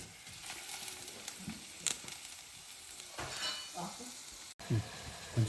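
Tomato, onion and curry leaves frying in a pan for Hyderabadi mutton dalcha, a steady close sizzle with a few stirring clinks and scrapes, one brief dropout near the end.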